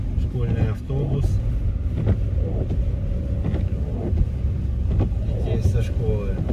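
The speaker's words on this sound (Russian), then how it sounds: "Школьный автобус." A school bus rumbles past close by on a snowy village road in sub-zero weather, its steady engine drone and tyre noise filling the clip alongside vehicle cabin sounds.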